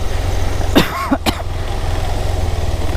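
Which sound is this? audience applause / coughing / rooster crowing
coughing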